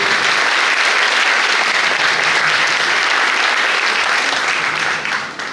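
Loud, dense applause from a large concert audience at a Turkish event hall, sustained evenly for several seconds before tapering off at the end.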